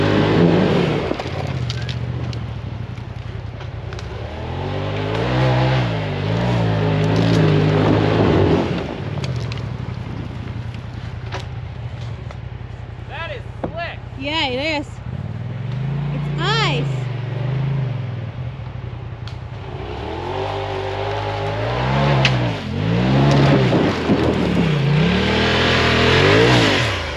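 Polaris RZR Turbo side-by-side engine revving and pulling while riding through snow, rising and falling in surges throughout, loud and close with wind noise on the microphone.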